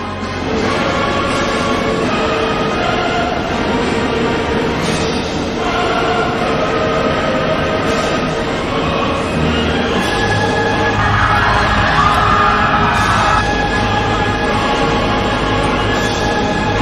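Train running in Train Sim World in France, a steady rumbling rail drone with low hum and faint clatter, loud and continuous throughout with no talk.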